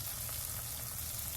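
Dried fish (tuyo) frying in a home cooker, a steady close sizzle and crackle of oil running without pause, with no voices over it.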